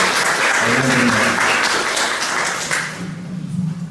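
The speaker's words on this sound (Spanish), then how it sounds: "Un fuerte aplauso y un agradecimiento especial para Ana María." Loud applause from a literature colloquium audience, full and sustained before thinning out, with a voice beginning to speak as the clapping fades near the end.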